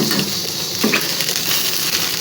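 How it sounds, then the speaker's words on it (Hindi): Cut pieces frying lightly in hot oil in a small kadhai, a continuous close sizzle with soft stirring, steady and fairly loud, no talk. "इसको हल्का सा फ्राई करना है बस"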